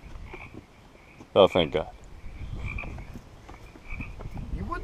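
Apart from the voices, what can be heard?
frogs croaking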